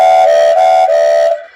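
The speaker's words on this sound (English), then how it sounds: "some whistle sounds" A Bachmann Donald model steam locomotive fitted with a DCC sound decoder sounds its steam whistle, a loud steady tonal blast with slight pulses that holds for over a second before cutting off.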